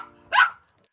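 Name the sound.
cartoon dog barking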